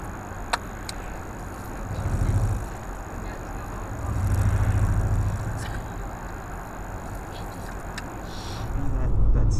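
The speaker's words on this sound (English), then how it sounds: "That CVT transmission." A 2017 Nissan Altima SV with CVT transmission driving, steady low road and cabin rumble that swells and fades, with a few faint clicks inside the car.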